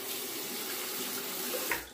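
Tap water runs steadily into a sink to rinse a safety razor during a wet shave, a continuous close hiss with a brief splash near the end.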